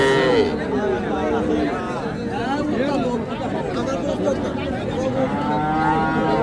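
Calves moo again and again at the crowded Hazratpur cattle market, with long bellowing calls rising over steady people chatter and general hubbub.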